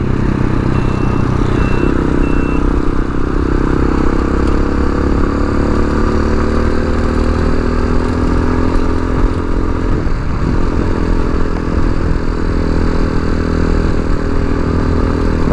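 A Chinese TBR7 dual sport motorcycle rides at a steady pace, its engine droning loud and continuous throughout, with a brief dip in pitch partway through as the rider shifts or eases off.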